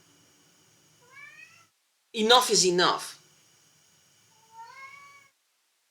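A cat meows twice, short rising cries near and clear, with a person's voice speaking briefly between them.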